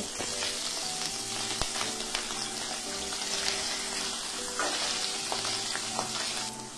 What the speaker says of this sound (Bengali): এবার পনিরগুলো একটু উল্টে পাল্টে ভেজে নেব